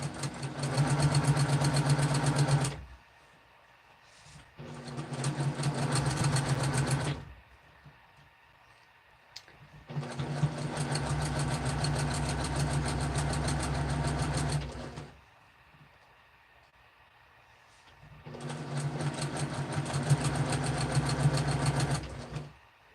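A Brother sewing machine stitches fabric in three long runs of steady, fast, mechanical whirring, with short quiet pauses between them, close and fairly loud.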